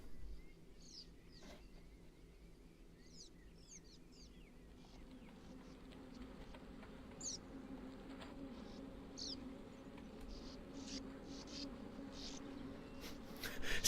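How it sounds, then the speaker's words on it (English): Small birds singing outdoors on a mountainside, brief high chirps and trills scattered over a quiet low ambient hum, faint and distant, with no talking. "Listen to the birds singing."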